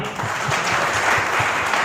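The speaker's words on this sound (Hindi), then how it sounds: "यस, थैंक यू मैम के लिए जोरदार तालियां" Dense, steady applause from a seminar audience at a Modicare business event fills the whole short stretch at an even, loud level with no pauses.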